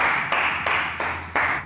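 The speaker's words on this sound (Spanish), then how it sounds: "Fuerte el aplauso" A TV studio audience applauds for actress Mercedes Morán, a dense, loud and steady wash of many hands clapping together that swells in short surges throughout.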